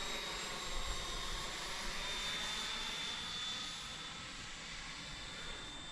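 An Intruder model airplane banks through a turn with flaps and landing gear down, its engine giving a steady, moderately distant drone that eases off slightly near the end.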